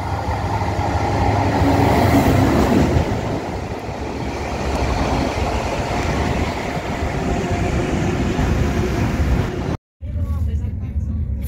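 A multiple-unit passenger train pulls into Venlo station with a loud, steady rumble and broadband rolling noise that holds for about ten seconds before a brief cutout.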